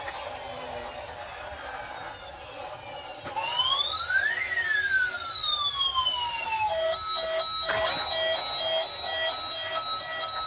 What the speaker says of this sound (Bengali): এখানে তো রয়েছে আরো একটি অ্যাম্বুলেন্স